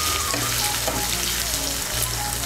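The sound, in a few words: grated ginger frying in oil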